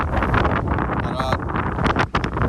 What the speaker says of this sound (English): See this high wind, how it's blowing the smoker